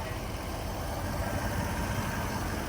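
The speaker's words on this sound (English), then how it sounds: "The engine's so quiet." Engine of a 2007 Mercedes-Benz SL550 idling quietly, a steady smooth hum with even background noise and no ticking, heard alone without talk.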